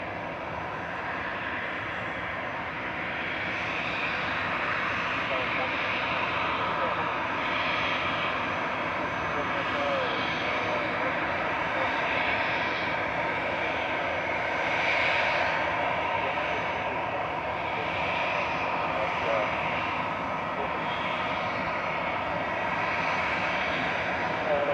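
An Etihad airliner taxiing back to its stand at Manchester Airport gives a steady, loud engine roar that swells gently and holds for the whole stretch, with a voice talking faintly underneath.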